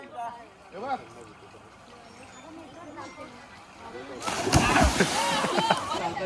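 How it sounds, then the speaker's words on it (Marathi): Family members at a farm house in Murud jump into water, with splashes and sloshing growing loud and dense near the end, under excited voices and shouts throughout. "तर हळूहळू सगळेजण कपडे काढून पाण्यात उड्या मारतायत"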